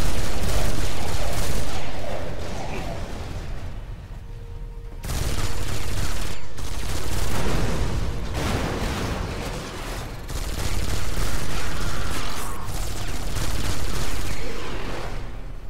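Sustained automatic assault rifle fire from an upgraded weapon in the sci-fi shooter Space Siege, loud and continuous in dense bursts, with a brief lull around the midpoint before the shooting resumes.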